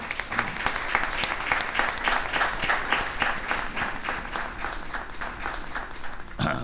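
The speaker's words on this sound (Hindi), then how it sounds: "आई इन दोनों के लिए जोरदार तालियां" Congregation applause in a church for two visitors from Germany, a lively crowd clapping with a rhythmic, pulsing quality that runs steadily for about six seconds before breaking off.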